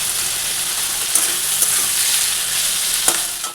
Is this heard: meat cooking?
yes